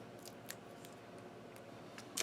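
Scissors snip cardstock for a handmade card in a few quiet, separate cuts, close and faint, with no talk.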